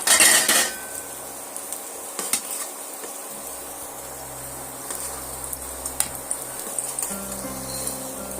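Fried potatoes for Punjabi aloo dum being transferred onto a plate, with metal utensils scraping and clinking against the dish in scattered taps after a brief louder clatter at the start, over a faint background hum.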